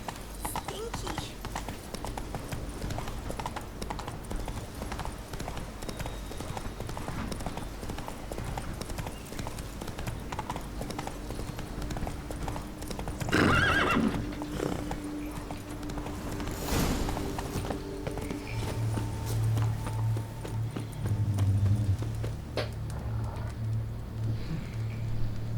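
Clip-clopping hooves of Roach, a horse in Witcher 3: Wild Hunt - Blood and Wine, trotting steadily and close for the whole stretch, with a short whinny partway through and voices talking over it.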